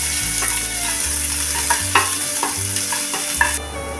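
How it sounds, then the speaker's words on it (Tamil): Chopped onion sautéing in a pan for an ivy gourd gravy, giving a steady close sizzle with the scrape and clack of a spoon stirring at intervals, no voices. "வெங்காயம் நல்லா வதங்கட்டும்."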